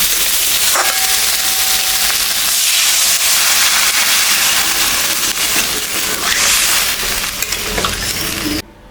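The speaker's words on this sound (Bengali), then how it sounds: "মশলাটা ভাজা হয়ে গেছে, এখন আমি জল দিয়ে দিই।" Water poured into spice paste frying in a pan for a fish curry, producing a loud, steady hiss and sizzle with a few scraping stirs, no voices, ending abruptly.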